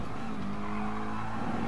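Tires squeal on a Gr.4 race car lapping the Nürburgring GP circuit in Gran Turismo Sport, a brief screech over a loud, steady engine drone.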